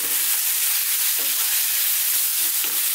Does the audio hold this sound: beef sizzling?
yes